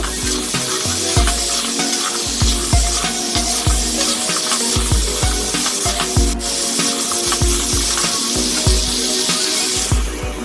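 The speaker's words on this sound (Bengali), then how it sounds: "এবার এটা আমরা ভালো করে নাড়িয়ে নাড়িয়ে ভেজে নেব" Potatoes and papaya fry in oil, cooked with cow skin, and are stirred hard, with loud rhythmic scraping and thumping of a spoon in the pan over a constant sizzle, close and busy.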